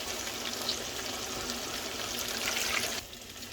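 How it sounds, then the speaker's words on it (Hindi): About three cups of water pour into a pot of green chickpeas and potatoes, a close, steady splashing rush that runs evenly and then cuts off near the end. "हम तकरीबन 3 कप पानी इसमें डाल देंगे।"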